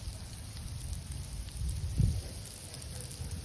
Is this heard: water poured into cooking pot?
no